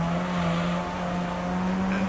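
A Toyota Altezza racing in Gran Turismo 3: A-Spec, held in second gear near the end of a lap, its engine a steady sustained drone with a constant pitch, loud and unbroken throughout.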